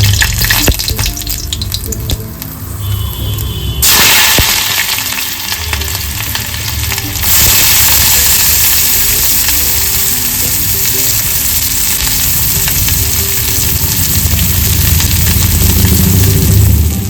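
Chopped onions fry in hot mustard oil for fish chop, a loud, dense, continuous sizzle close by that shifts in texture as the pan is stirred.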